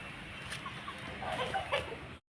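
Imported rooster clucking in repeated short calls, fairly close and moderately loud over light outdoor background noise, ending abruptly.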